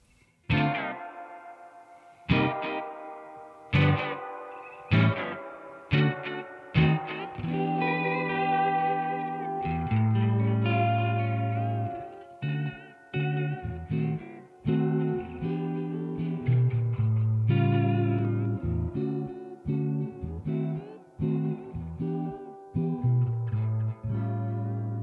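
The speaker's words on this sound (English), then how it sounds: "Double echo reverb." Arturia delay plugin set to a double echo reverb effect, with plucked and struck synth notes that trail into repeating echoes and wash into sustained chords, no voice.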